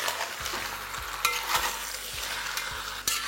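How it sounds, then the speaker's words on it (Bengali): Mutton stirred in a pan over a high flame gives a steady close sizzle, broken by regular scraping strokes of a spoon against the pan. "এবার ফ্লেমটাকে হাই রেখে এটাকে আপনারা ভালো করে মেশাতে থাকুন।"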